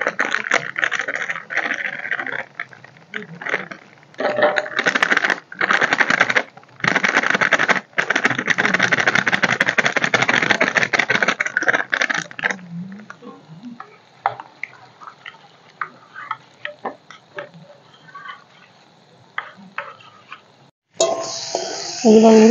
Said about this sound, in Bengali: গরম জলের মধ্যে 1 প্যাকেট গুঁড়ো দুধ আমি মিশিয়ে নেব।